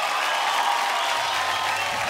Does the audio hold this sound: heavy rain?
no